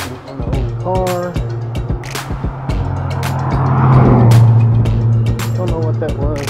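An old car, something like a Chevelle, drives past on a tree-lined road. Its engine rumble swells to a peak near the middle and then fades, with faint voices at the start and end.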